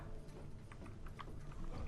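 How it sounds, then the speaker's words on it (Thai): Several horses clip-clop faintly in a CS:GO co-op western mission, the hoofbeats soft and uneven under a steady low game ambience. "โอ้โหเจอม้าหลายตัวมาก"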